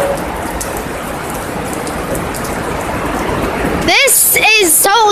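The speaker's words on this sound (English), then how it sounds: "this has to be one of the most heaviest rains" Heavy rainstorm pours as a steady, dense hiss throughout, loud and close, with voices speaking over the downpour near the end.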